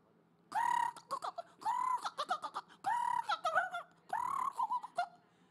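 A chicken clucks in four loud, close bursts of rapid, nasal calls spaced about a second apart, with short sharp squawk-like notes between them and no voices over it.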